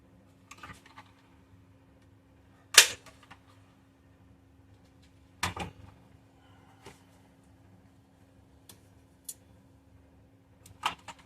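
A staple gun fires into rumble-seat upholstery in a quiet workshop, with a few sharp, isolated snaps spaced seconds apart and faint handling clicks between them.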